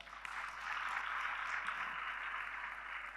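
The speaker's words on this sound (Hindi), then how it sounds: "ताली बजाओ यार।" A crowd at a career leadership session on nation building bursts into applause, a dense, steady wash of clapping that swells slightly and holds for a few seconds without speech.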